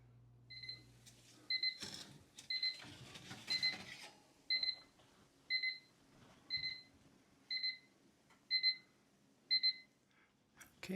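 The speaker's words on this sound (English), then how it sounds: "When my timer goes off, I'll check them, make sure that they're done." Kitchen timer going off while jalapeño popper sausage balls bake in an oven, a loud electronic double-tone beep repeating about once per second, ten times, with some clattering early on.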